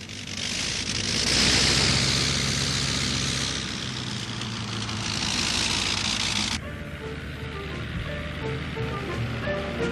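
Loud, near roar of a landing Sikorsky aircraft engine, a wide rushing wash that rises and falls, then abruptly shifts to a quieter, steady engine hum with a light whine.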